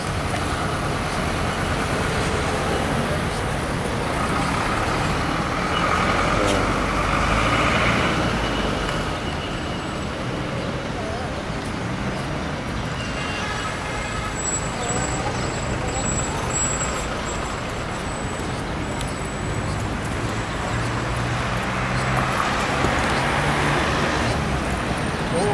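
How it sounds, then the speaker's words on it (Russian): Busy city street traffic, with many cars and trucks passing, makes a steady, moderately loud roar that swells and fades slightly. Faint voices may sit beneath it. "машин здесь много. Куда ни посмотришь, кругом машины"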